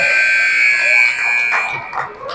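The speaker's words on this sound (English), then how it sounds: "we got ourselves a buzzer" A loud, sustained electronic buzzer tone holds steadily at a youth bantam hockey game, with crowd noise swelling underneath.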